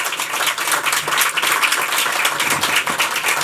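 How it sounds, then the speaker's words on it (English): An audience at a community panel event in Cambridgeshire and Peterborough gives a warm round of applause, dense continuous clapping from many hands, close and loud throughout. "So can I ask you all to give a huge round of applause to our fantastic panel."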